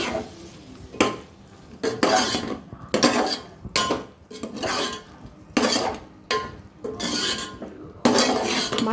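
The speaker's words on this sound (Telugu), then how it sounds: "మసాలా అంతా మిల్ మేకర్స్కి పట్టేలాగా కలుపుకోవాలి" Masala, curd and soaked meal maker chunks are stirred in a pan for pulao, a spoon scraping and clanking against the metal in repeated strokes, close and distinct, with a faint sizzle underneath and no talking.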